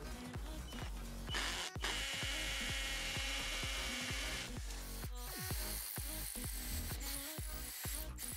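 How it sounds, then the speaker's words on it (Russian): A Deko 20V cordless impact drill bores into concrete in hammer mode with a large used masonry bit, a loud continuous whining rattle broken by repeated short stops and restarts, no talk. "Устанавливаю ударный режим, погнал сверлить."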